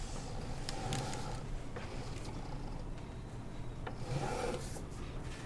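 Load being tipped onto the floor in Farming Simulator 17, heard as a steady, faint, grainy rasping pour that runs continuously under a low mechanical hum.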